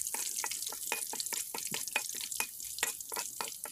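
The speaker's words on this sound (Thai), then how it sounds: "ต่อไปก็จะนำใบมะกรูดฉีกนำมาทอดให้กรอบเลยนะคะใช้เวลาทอดไม่นานค่ะ" Torn kaffir lime leaves frying in hot oil, crackling in a rapid train of sharp bursts and spits, some fifteen distinct pops over a bubbling hiss, close and moderately loud.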